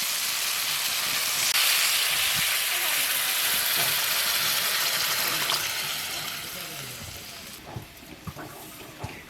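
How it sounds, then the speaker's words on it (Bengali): Water is poured into cooked spiced masala for an egg and eggplant curry, giving a steady rushing pour with sizzling for several seconds before it dies down to quieter bubbling. "মশলা কষানো হয়ে গেছে, আমি জল দিয়ে দেবো।"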